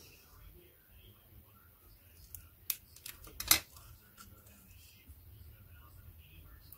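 Scissors cut through paper card in a few short, crisp snips close by, with a couple of sharper clicks in the middle over a quiet background.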